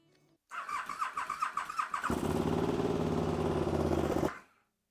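A KTM SuperDuke 990 motorcycle engine starting: a whirring starter crank for about a second and a half, then the engine catches into a loud, steady idle nearby before cutting off abruptly.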